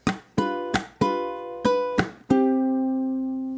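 A ukulele plays the 12th-bar ending of a song: six bright, rhythmic strummed chords, the final one left to ring out and slowly fade, close and alone.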